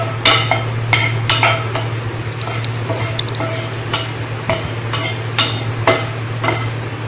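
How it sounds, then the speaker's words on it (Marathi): Green chillies roasting in oil in a pan crackle softly under repeated sharp clicks of a utensil stirring and tapping against the metal, with a steady low hum behind. "त्या मिरच्या आपल्याला भाजून घ्यायचे आहे। त्याला थोडं हलवायचं आणि त्या मिरच्या पूर्ण भाजून घ्यायच्या।"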